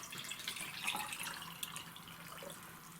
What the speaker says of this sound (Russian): Мы нальем вот так в этот же вазон эту чесночную воду.